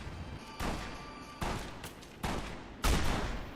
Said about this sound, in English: Oh no, are those incendiary bullets?